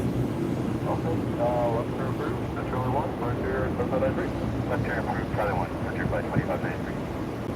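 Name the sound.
Boeing 757 airliner at Orlando Airport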